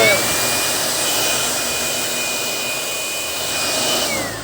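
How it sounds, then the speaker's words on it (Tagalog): A powerful air blower roars continuously into an amplifier for several seconds, a dense rushing hiss with a thin steady whine riding on top. "blinower natin to, binugahan ng hangin, naka-maximum na yung buga ng hangin"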